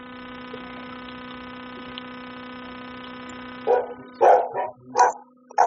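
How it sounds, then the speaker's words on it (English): A dog barks in the background during an online class, a handful of sharp, separate barks following a steady electrical hum from a microphone. "The dog is making noise at the background."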